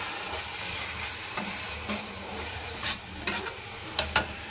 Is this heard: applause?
no